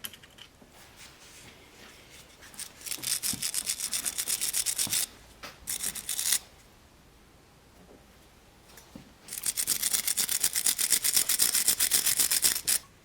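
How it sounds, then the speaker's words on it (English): A wire brush scrubs hard against a metal part of a Volvo 940, in two long bursts of rapid rasping strokes separated by a quiet pause, close up with no talk. "Just give us a wire brush up and then we can get the new ones on."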